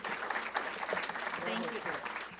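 An audience at a scholarship presentation gives a short burst of steady applause, with voices talking over the clapping.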